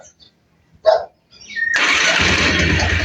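A Rouser 220 motorcycle engine starts, with a few faint clicks and a short whirr before it catches and settles into a loud, steady idle, close by and alone.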